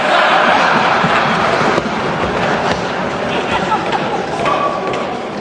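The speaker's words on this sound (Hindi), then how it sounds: "बजाओ जोरदार ताली" Loud, dense clapping and crowd noise fill a parliament chamber as members applaud a humorous Hindi poem, with voices mixed into the sustained applause throughout.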